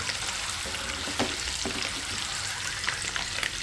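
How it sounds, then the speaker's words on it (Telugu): Eggs frying in hot oil until golden brown, a loud, continuous close crackle and sizzle with occasional stirring knocks and no talk. "మొత్తం మంచి గోల్డెన్ బ్రౌన్ కలర్ వచ్చే వరకు ఫ్రై చేసుకుందాం."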